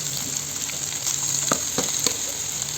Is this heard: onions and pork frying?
yes